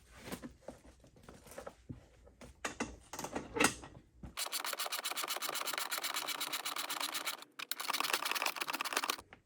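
Two bolts on a Honda Shadow 750 motorcycle saddlebag loosened with an 18mm socket: scattered metallic clicks and scrapes, then a long run of rapid, even ratcheting ticks, close and fairly loud, with a short pause before the ratcheting resumes.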